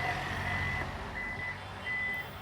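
A Toyota Innova Hycross power tailgate sounds its warning as it closes: three evenly spaced high electronic beeps over a low, quiet background hum.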